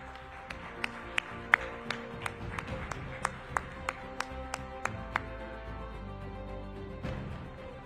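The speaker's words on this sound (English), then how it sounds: "Can we see him off with a huge round of applause, ladies and gentlemen?" Audience applause at a Green Ribbon Champions felicitation event, scattered distinct hand claps ringing out over a murmuring crowd, sparse and uneven rather than a full ovation, fading toward the end.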